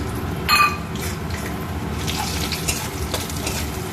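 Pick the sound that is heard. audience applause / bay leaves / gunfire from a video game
bay leaves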